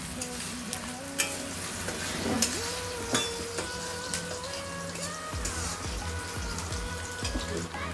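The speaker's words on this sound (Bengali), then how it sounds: "এবার আমি কড়ার মধ্যে দিয়ে দিলাম পেঁয়াজ কুচো পেঁয়াজটাকে একটু ভেজে নেবো আমি একটু বাদামিভাবে" Chopped onions sizzle and crackle in hot oil in a wok as they fry toward brown, a steady close frying hiss with occasional stirring clinks and scrapes, no voices.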